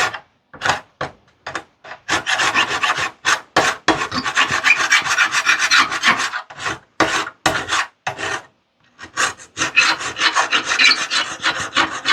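A Parkside multi-purpose scraper tool from Lidl scrapes a rusty piece of metal, loud close rasping strokes in bursts, some short and choppy, others long and continuous, with brief pauses between.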